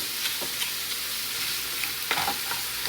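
Ground meat for stuffed peppers sizzles steadily in a pan, while a few light scraping and clicking stirs break through the continuous frying hiss, close up and with no voices.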